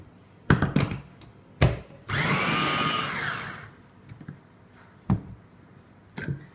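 A kitchen blender whirs through adjika ingredients in one loud burst of a second or two. Sharp knocks and thuds of handling come just before and after it.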